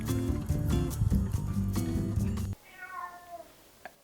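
A domestic cat meows a few times at close range in a quiet indoor room, heard alone after a burst of louder sound cuts off, with a faint click near the end.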